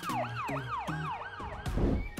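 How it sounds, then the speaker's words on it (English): A police siren on a car trunk wails in rapid repeated up-and-down sweeps, loud and close, ending in a burst of noise. "there is a police siren on the trunk"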